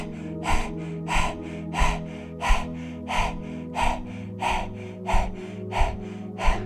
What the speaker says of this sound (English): you're going to rapidly breathe in and out through your mouth